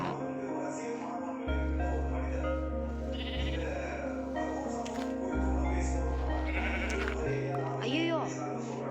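Repeated sheep bleats from Minecraft, several short calls spread over the clip, layered with game music tones and a man calling out in Tamil over them.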